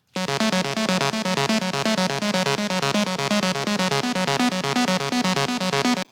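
Bright synth lead arpeggio from an electronic dance remix recreation, a fast steady pattern of sixteenth notes repeating evenly for about six seconds, loud and alone.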